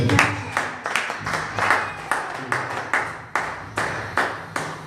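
A church congregation applauding, steady rhythmic clapping in a regular beat of about three claps per second, loud and close and filling the room.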